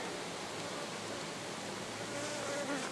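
A dense, steady hum of many honey bees buzzing close by, continuous and fairly soft, with no voices.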